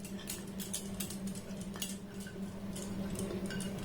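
Metal spoon scraping and clinking against small steel bowls while spreading sour curd (yogurt) around their insides, a steady close scratchy rubbing with light taps over a low background hum.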